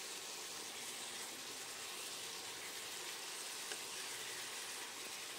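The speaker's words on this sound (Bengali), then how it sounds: "লঙ্কা আর টমেটোর পেস্টটা দিয়ে দিলাম। দিয়ে ভালো করে কষিয়ে নিতে হবে।" Chili and tomato paste with spices sautéing in a pan, a continuous soft, even sizzle heard close up with no talk.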